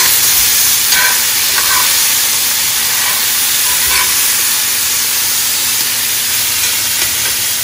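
Pork ribs sear loudly in a hot pan for costillas con chile, a strong, unbroken sizzle and hiss with occasional sharper spits, close and steady throughout with no talking.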